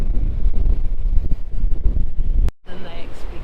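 Strong coastal wind gusts across the rocky shore at Pancake Rocks on New Zealand's west coast, a dense low rumble buffeting the microphone, loud throughout with a brief dropout near the end.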